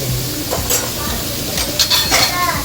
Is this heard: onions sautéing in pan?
yes